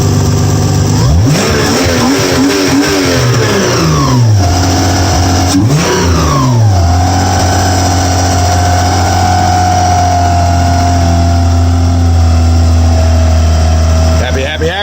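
A 1999 Subaru Outback fitted with an SVX 3.3 liter engine revs hard, its pitch sweeping up and down in several surges before settling into a steady drone, loud and close, with voices talking over it.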